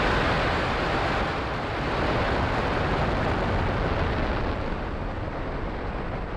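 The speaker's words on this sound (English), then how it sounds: "Engines full power and liftoff of Starlink 437." A SpaceX Falcon 9 rocket lifts off on a Starlink mission, its engines producing a massive, continuous roaring rumble that fills the whole span without pause, loud and steady.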